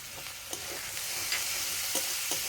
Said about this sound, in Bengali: আদাটাকেও খুব ভালোভাবে তেলের সাথে ভেজে নেব।